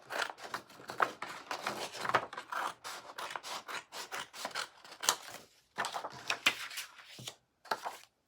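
Scissors snipping through paper in a series of short crisp cuts with brief pauses, close and fairly quiet, no speech.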